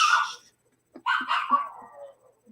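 A few dogs bark and yelp nearby, a sharp bark followed by a quick run of shorter, breathy yips and whines, fairly loud against silence.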